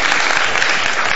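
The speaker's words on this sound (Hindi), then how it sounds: "हर चीज पे तालियां बजाएंगे" Studio audience applause on a Pakistani morning talk show, a dense steady wash of clapping filling the whole moment at full loudness, with no voices standing out.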